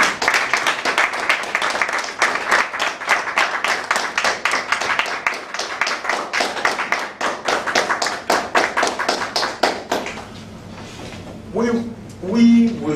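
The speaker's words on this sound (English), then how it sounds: "Please clap for this event of our club." Club members applaud at an English club meeting in Bamako, steady close clapping from a small crowd lasting about ten seconds before fading into quiet room noise and a few voices.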